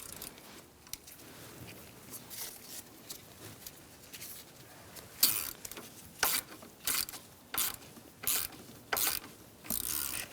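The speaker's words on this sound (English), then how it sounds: "I'm using a 1/4-inch ratchet." A 1/4-inch ratchet snugs transmission mount bolts on a 2012-2018 Ford Focus, quiet at first, then a run of close, sharp clicking bursts in quick irregular strokes.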